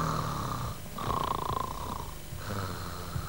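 A child imitates snoring with slow, rhythmic, rumbling breaths, about three drawn-out snore cycles close to the microphone, with no talking.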